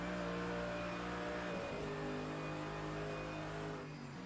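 Audi and Mercedes GT race cars at Bathurst in a racing video game, engines droning steadily at high revs with layered harmonic tones, a brief pitch dip around a gear change midway, then sustained roar fading slightly at the end.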